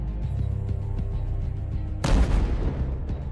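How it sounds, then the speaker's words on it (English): A kamikaze drone carrying high explosives detonates inside a building on a Ukrainian frontline, a sudden loud, broadband blast that bursts in abruptly after a rumbling lead-in and rolls on with crackling debris and reverberant decay. "The drone enters the building through the glass and blows itself up with the high explosives it carries."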